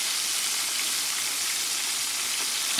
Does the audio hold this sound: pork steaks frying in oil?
yes